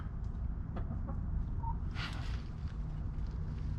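Chickens cluck softly close by in a garage-like setting, a few short scattered clucks and one brief squawk over a steady low background hum.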